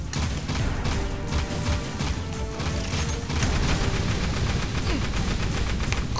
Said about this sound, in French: il tire à travers le mur même